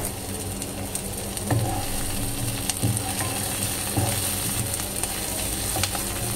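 Chopped bell pepper and green chili frying in a pan for paneer rolls, with a steady close sizzle and a few scraping stirs of a spatula.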